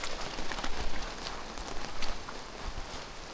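Heavy rain pours steadily on a hike near Materuni Waterfalls, a dense, close hiss of drops drumming on surfaces and umbrellas with brief surges in intensity.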